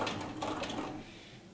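A sewing machine runs briefly and close while stitching a set-in sleeve, a short whirring burst that fades toward the end, with no talking.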